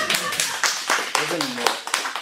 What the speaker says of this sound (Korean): 우리 강 교수님에서 박수 한번 칩시다